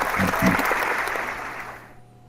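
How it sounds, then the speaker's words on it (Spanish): Applause from an audience at an online talk, a steady wash of many hands clapping that fades out toward the end. "les voy a dar el merecido aplauso"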